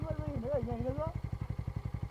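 Motorcycle engine idling on a trek road in Nepal, a steady low throbbing putter close by, with voices talking over the first half before the engine runs alone.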